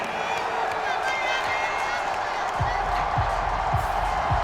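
Stadium crowd in a Madden NFL Jets vs. Dolphins video game swelling into a loud, steady roar of disapproval, with low rhythmic thumps near the end and commentary-like talk mixed in.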